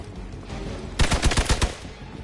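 A laser weapon firing in the Marvel's Midnight Suns video game: a rapid burst of about eight sharp, loud shots in quick succession, standing out over a steady low background hum.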